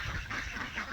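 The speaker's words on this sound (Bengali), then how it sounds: "এরা মিটিং করতেছে হাঁসগুলা" Ducks in a village yard quack faintly in a brief, overlapping cluster, heard alone without voices.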